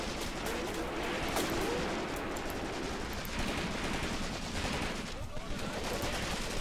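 Tanks and gunfire in the WWII strategy game Cross of Iron, during a German defense on the Mius Front. Machine-gun bursts and scattered shots crackle steadily at a distance over a continuous rumbling battle din.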